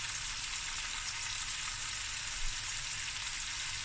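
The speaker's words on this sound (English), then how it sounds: "And now this is just going to fry until it's nice and golden brown" Fresh curry leaves frying in hot oil in a pan for lamb shank akhni, a dense, steady crackling sizzle heard close and alone.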